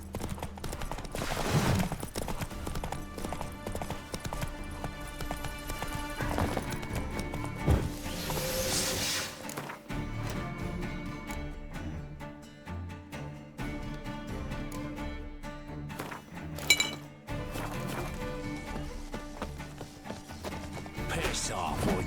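Horse hooves clop along in The Witcher 3 video game, mixed under music, battle noise and gunfire-like bursts, with a brief neigh-like cry and game voices talking.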